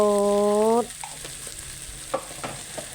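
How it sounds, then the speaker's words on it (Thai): A short tonal hum gives way to minced beef being stir-fried with oyster sauce and seasoning powder, with a soft sizzle under scattered spatula scrapes and clinks against the pan. "จากนั้นก็น้ำตาล ผัดให้เข้ากันไปเลยค่ะ"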